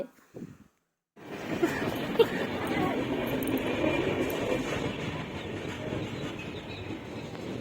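A train rumbles past at close range after a brief silence, a continuous heavy roar with faint rhythmic wheel clatter that holds steady to the end.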